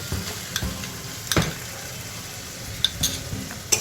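A ground poppy seed and cashew-raisin paste fries in a pan for a Bengali chhana kofta, with a low continuous sizzle broken by a few sharp scrapes and taps of a spoon against the pan.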